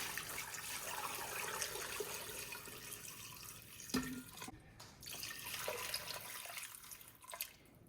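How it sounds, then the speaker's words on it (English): Water poured over beef soup bones with peppercorns and bay leaves in a pressure cooker, a steady close splashing and trickling that runs for several seconds with brief pauses and shifts in flow. "pour a bunch of water over it."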